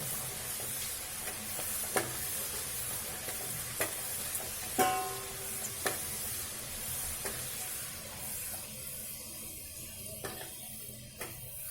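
Chana dal fries in hot oil for a mixture snack, a steady broadband sizzle running throughout with occasional clicks and stirring knocks against the pan, close and moderately loud, no voices.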